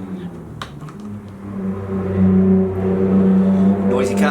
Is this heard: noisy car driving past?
yes